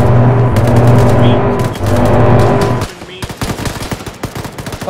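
Sustained machine-gun fire in the military video game ShackTac rattles loudly for about three seconds, then breaks into scattered single shots and short bursts, close and sharp, with no voices over it.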